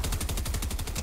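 Rapid automatic gunfire from bots in Fortnite, a loud close burst of evenly spaced shots rattling without pause for about a second.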